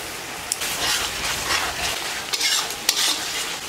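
Spice paste of chili, tomato, turmeric, cumin and salt sizzling in oil for a pangasius fish curry, stirred with steady scraping and a dense crackling hiss, close and continuous with a few sharper clicks.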